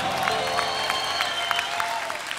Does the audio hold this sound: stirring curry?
no